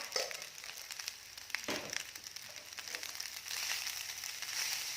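Seasoning paste for vegetarian chicken rice stir-fries in a pan with a soft, steady crackling sizzle and occasional scraping, close but quiet.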